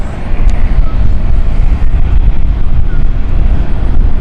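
Airliner on short final into London City Airport on an Edinburgh flight, a loud, close, steady low engine roar rumbling continuously throughout.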